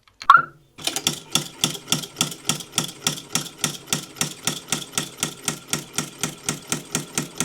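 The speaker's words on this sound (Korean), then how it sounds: "이 워킹풋 거리가 내려오면서 나사를 치니까 소리가 엄청 크더라고요" A fast, steady mechanical clatter of a sewing machine, with a sharp knocking tap on every stitch as the walking foot strikes a screw, loud and close, with no talking.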